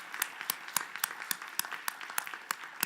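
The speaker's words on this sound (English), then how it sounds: "So why don't we give them a applause?" Audience applause for panelists at the close of a panel Q&A, heard as faint, scattered clapping with distinct individual claps spread through the room, continuing steadily throughout.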